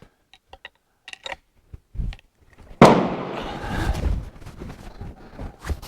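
A few faint clicks, then one sudden loud Martini-Henry rifle shot, loaded with a large pistol primer, with a rough, ringing tail that fades over the next few seconds.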